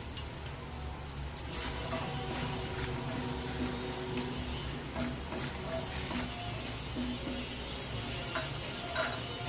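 Soya chunks fry in hot oil in a pan for a Bengali mixed vegetable dal, giving a steady close sizzle with scattered crackles and light stirring scrapes throughout, with no talking.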